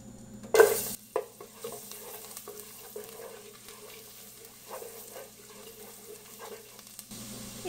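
Chopped garlic fries in melted butter in a pan, a moderate sizzle broken by the clatter of a spoon stirring, with a sharp burst near the start and no talking.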